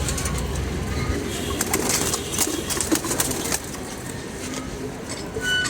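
Racing game pigeons in a loft coo and stir amid a dense, noisy background, with occasional faint wing flaps and no clear voices over the birds.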